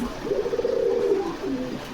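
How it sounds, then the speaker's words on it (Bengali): A large Gopalganj breed pigeon gives a soft, throaty coo, a single rolling call at close range, at a pigeon farm in Bogura. "অরিজিনাল গোপালগঞ্জের বড় পায়রা"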